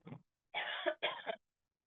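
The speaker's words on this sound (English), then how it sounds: "a wee cough there." A short throat-clearing sound, then two harsh, close coughs in quick succession, with silence after.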